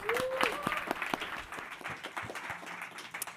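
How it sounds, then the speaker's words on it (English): An audience applauds at a Google for Startups Accelerator AI for Energy demo day. The clapping is moderately distant and steady. A brief whistle-like tone rises early and a few voices murmur under it. "Round of applause."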